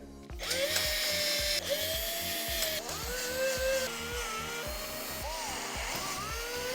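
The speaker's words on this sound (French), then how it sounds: "on va visser de l'extérieur vers l'intérieur les vis de petite taille" A power driver sinks small screws into the metal frame of a billiard table: a loud, continuous whirring drone that rises and dips in pitch with short pulsing bursts, close up and without speech.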